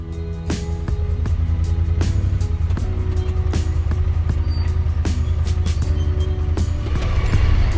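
A Honda Pioneer 1000 UTV on Kenda Klever XT tires crawls over a big rock, its engine droning loud and steady with repeated knocks and clunks from the chassis and suspension.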